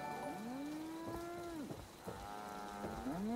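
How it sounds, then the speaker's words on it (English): A cow in the video game Fallout 76 moos twice, long drawn-out lowing calls, fairly loud and near, over a faint patter of rain with no talking. "I just heard a cow"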